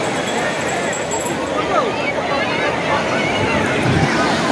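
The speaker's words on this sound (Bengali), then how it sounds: "কত জোরে ঢেউ আসছে দেখো।" Strong sea waves surge and break on Puri beach at high tide, a dense continuous roar of surf and wind close by, with faint voices in the background.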